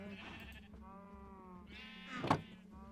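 Sheep bleating in Minecraft, several harmonic bleats overlapping one another, with a louder, closer bleat near the end over a constant low in-game background hum.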